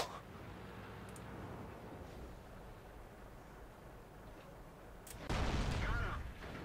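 The large derp gun of a tank in World of Tanks fires, making one heavy booming blast near the end that follows a steady rumble of engine and battle noise.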